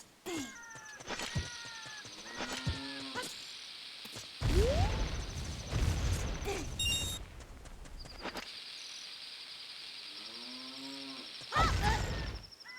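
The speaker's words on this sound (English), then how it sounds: "And if you can hear that cow," A cow in The Legend of Zelda: Ocarina of Time moos several times with drawn-out, wavering calls spaced apart, against a quiet game backdrop with a sustained high tone and a few louder bursts of activity.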